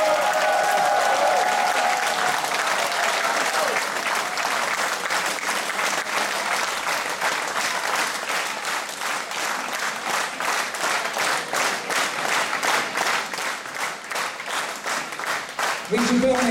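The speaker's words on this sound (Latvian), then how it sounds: "Viņš ir pelnījis šos aplausus." Sustained concert audience applause from a large crowd in a Latvian culture house, dense and steady for about sixteen seconds with a rhythmic clapping pulse emerging and a brief voice at the very end.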